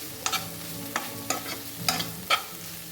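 A spoon scrapes and stirs mushroom roast in a frying pan in about five distinct strokes over a soft, steady sizzle, heard up close.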